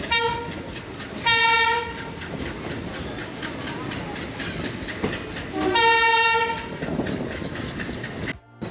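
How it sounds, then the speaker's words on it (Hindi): Tiruchirappalli–Rameswaram passenger train at Rameswaram station, loud and close, with two long blasts of the train horn over rumbling wagons and clattering wheels. "ये तिरुचिरापल्ली रामेश्वरम पैसेंजर ट्रेन है ये"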